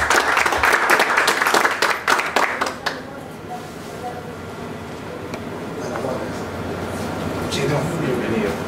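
An audience claps to welcome a guest at a library event, with dense loud applause for about three seconds that then fades into room murmur and voices speaking.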